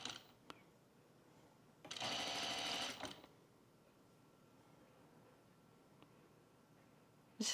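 A sewing machine stitches lightweight fabric such as silk chiffon or poly in one loud, steady burst of about a second, pressed hard by the foot pedal, with only faint room noise before and after.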